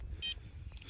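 Metal detector signal beep while detecting for buried lead objects in a dug hole in Britain, a short bright electronic tone followed by a fainter second blip over low background rumble.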